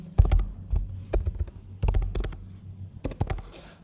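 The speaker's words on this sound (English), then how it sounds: "We need to type delete me." Typing on a computer keyboard comes in quick close bursts of clicky keystrokes separated by short pauses, crisp and alone.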